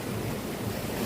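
Ocean surf breaking on rocks below a clifftop beach villa, a steady close wash of wave noise with wind, no voices.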